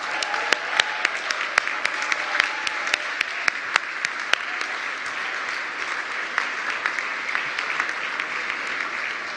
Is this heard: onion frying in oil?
no